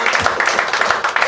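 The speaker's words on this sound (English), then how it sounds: "Clap if you knew that." Audience applause during a live comedy podcast taping, a short close burst of rapid hand claps from a crowd with no talk over it.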